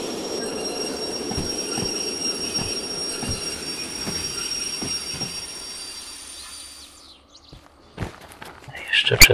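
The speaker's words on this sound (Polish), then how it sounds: "Przesadziłem z hamowaniem, nie?" Train braking in the Derail Valley game, a long rumbling rolling noise with rhythmic wheel clicks and a steady high squeal that fades out after about seven seconds, followed by quieter clunks and a brief noise at the end.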